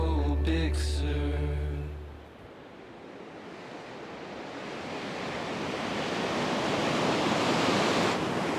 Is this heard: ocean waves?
yes